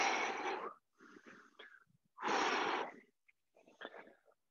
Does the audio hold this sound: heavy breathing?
yes